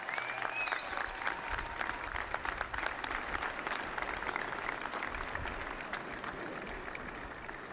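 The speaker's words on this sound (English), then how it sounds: "Let's give another big round of applause for the 189th Airlift Wing of the Arkansas Air National Guard." Crowd applause at the 2023 inauguration of Arkansas Governor Sarah Huckabee Sanders honoring the 189th Airlift Wing, a broad steady wash of many hands clapping, heard from a distance and sustained evenly throughout.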